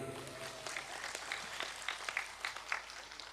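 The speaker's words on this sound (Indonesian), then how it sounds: "Tepuk tangan riyen iki." Mosque congregation applauding at a village religious gathering: scattered, fairly faint clapping from a crowd with irregular sharper claps, heard from a moderate distance without talk.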